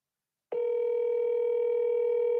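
A steady telephone dial tone sounds alone after a short silence, a clean continuous hum on a phone line heard when calling a seller.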